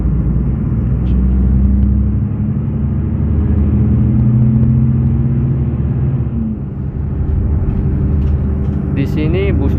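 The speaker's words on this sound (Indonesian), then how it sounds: "Di sini busnya lari lumayan kenceng ya." A Hino bus, a Jetbus5-bodied intercity coach, runs fast along the Daendels road near Mirit, Purworejo. A steady, loud low engine and road rumble fills the cabin throughout, with a brief dip near the end.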